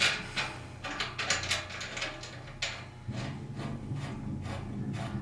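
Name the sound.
clamp being tightened on a 16 gallon Torpedo Pro still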